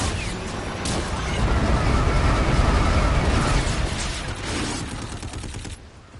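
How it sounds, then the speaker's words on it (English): Friendly bombardment in Call of Duty Infinite Warfare: dense, continuous rumbling explosions and crackling blasts that swell loud through the middle, then thin out before ending in near silence. "Friendly bombardment."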